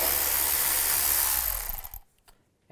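A power tool with a 10mm socket whirs as it backs bolts out of a 2015-2020 Cadillac Escalade, a close, loud, continuous buzz that cuts off abruptly near the end, followed by a faint clack.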